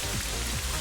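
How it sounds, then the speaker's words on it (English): Steady rain hiss from the Rain Dance move effect in a Pokemon video game battle, a dense, even patter filling the whole short moment with no voices. "I don't think they're going for Rain Dance this turn then."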